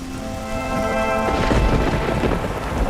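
Heavy rain pours over a cool, humid mountain forest in the Colombian Amazon region as thunder rumbles in, the downpour steady and loud with a deep roll of thunder swelling midway and no voices.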